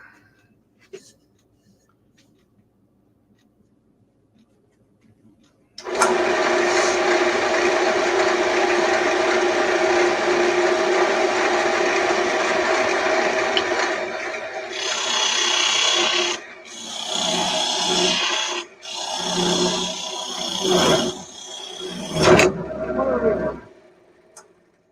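Carbide turning tool hollowing out a wooden top hat on a lathe, a steady close rasping scrape that runs continuously for several seconds, then breaks into shorter uneven cuts with brief pauses before stopping.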